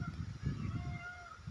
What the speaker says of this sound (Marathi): मोरांचा आवाज येते.